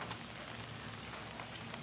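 Steady light rain patters on surfaces outdoors around a flock of released pigeons, a faint even hiss with occasional drop clicks.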